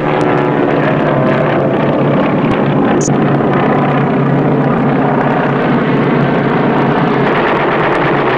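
Aircraft engines drone loudly and continuously in a steady, close propeller roar, with enemy fighters reported behind.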